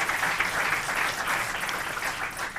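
A public health symposium audience claps steadily for the panel and speakers, a moderately loud, even wash of applause that runs the whole stretch with no talk.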